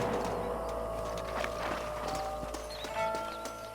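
Horse hooves clip-clop at close range in the game Red Dead Redemption, a quick, uneven stream of hoof strikes with a brief whinny. Nobody talks over it.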